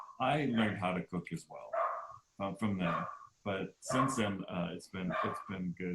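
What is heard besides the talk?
dog barking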